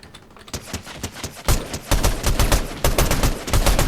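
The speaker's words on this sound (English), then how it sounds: "We'll throw this little turret gun out here." A deployed turret gun fires in the Fortnite video game, a rapid, dense burst of loud automatic shots that starts sparse and builds into continuous close gunfire.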